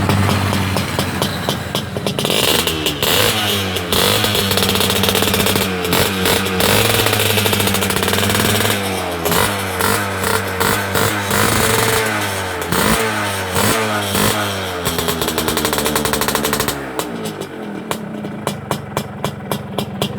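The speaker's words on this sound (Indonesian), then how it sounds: "itu tadi suara knalpot punya kita Mas." Modified exhaust on an L2 Super motorcycle, loud and close, with rapid repeated throttle blips and revs rising and falling over a steady idle, ending in choppy popping bursts, no talk.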